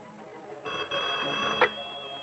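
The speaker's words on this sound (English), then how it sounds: "the phone just rang twice" An old telephone bell rings in a 1970s crime film scene, a bright trilling ring that starts partway in and sustains, ending with a short sharp burst, heard close and clear in a quiet room.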